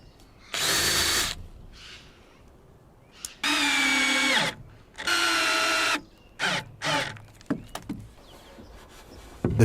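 Power drill driving screws into timber while building a wall for a forest treehouse, heard as three longer whirring bursts followed by several short stop-start pulses, close and loud with quiet gaps between.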